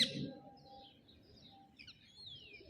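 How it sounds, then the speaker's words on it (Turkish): Caged canaries and small green parrot-like birds give faint, sporadic chirps and high tweets in a quiet indoor space, with a brief low rustle at the start. "Bu kanaryadır. Ne zıkkımsa bu yeşiller papağan gibi."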